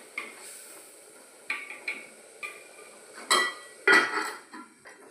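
A lid goes onto a pot of biryani amid a series of metallic clinks and clatters, with a couple of louder knocks of metal on metal toward the end, close and distinct.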